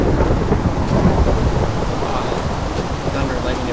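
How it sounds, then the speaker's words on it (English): Rumbling thunder with steady rain and wind in a tornado survival video game, a dense continuous storm roar filling the whole stretch at fairly high loudness, with faint traces of voice beneath it. "Thunder and lightning, it works now."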